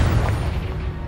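A Confringo blasting spell from the Hogwarts Legacy game lands as a heavy low boom with a rumbling tail, loud and close, fading steadily over about a second with no talk.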